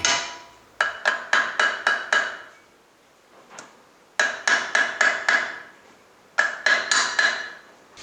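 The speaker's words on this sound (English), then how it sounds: "it needs some tapping with a copper hammer or a brass drift to get it free" Sharp metallic taps of a copper hammer on a Land Cruiser 79 swivel hub in quick bursts of four or five strikes, each ringing briefly, with pauses between groups; close and fairly loud, no talking.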